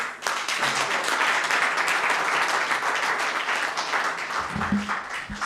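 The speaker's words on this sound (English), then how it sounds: "Round of applause." Sustained round of applause from a seated audience at a cohort celebration summit, dense steady clapping filling the space and staying loud throughout before a brief low voice near the end.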